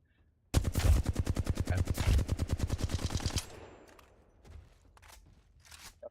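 Burst assault rifle fire in a video game, a long rapid run of about twenty loud, evenly spaced shots, then fading echoes and a few scattered faint clicks and pops.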